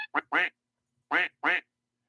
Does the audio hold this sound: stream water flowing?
no